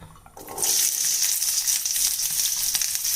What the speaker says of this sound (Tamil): வெங்காயம் வதக்கிறதுக்கு எண்ணெய் ஊற்றிட்டீங்க